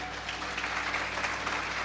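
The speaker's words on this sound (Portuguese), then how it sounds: "Você pode aplaudir a Jesus, querido?" A church congregation applauds during a sermon, a steady, even patter of many hands clapping at moderate, slightly distant level with no voices on top.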